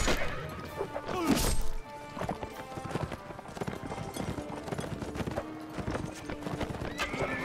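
Horse hooves clip-clop at a gallop in the Mount & Blade Warband video game, with a loud whinny early on, heavy thuds and clashing battle impacts filling the fast, busy scene.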